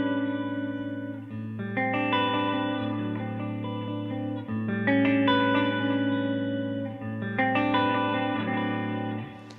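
Sustained electric guitar chords ring out with long echoing repeats and a wash of reverb, each new strum blending into the trailing tails.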